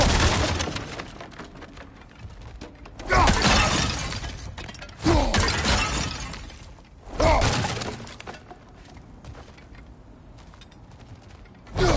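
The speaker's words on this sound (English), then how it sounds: "back to smashing through things for fun and profit" Objects shattering and breaking apart in God of War Ragnarok, three loud crashing bursts spaced a couple of seconds apart over a quieter ambient background.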